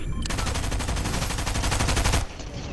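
Rapid machine gun fire in the video game Fortnite, a loud, steady burst of closely spaced shots lasting about two seconds before cutting off to a quieter background.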